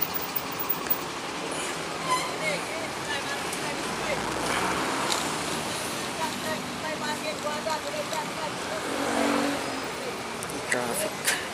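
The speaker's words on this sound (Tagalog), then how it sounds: "tapos ng traffic, mga jeeps." Busy road traffic with jeepneys in the Philippines, a constant dense rumble of engines with passing vehicles and occasional louder swells, with talking over it.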